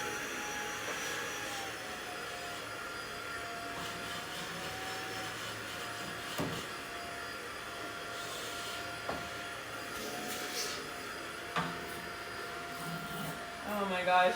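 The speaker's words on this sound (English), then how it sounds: "I also super love this vacuum because it is extremely powerful" A steady, powerful motor whine drones throughout at moderate level, with a few brief clunks and bumps over it and a louder rattle near the end.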